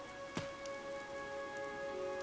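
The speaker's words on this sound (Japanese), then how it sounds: "この雨多分嵐が来る。" Rain falls in the video game Fire Emblem Three Houses, a steady patter under sustained musical tones, with one brief louder splash early on and no voices.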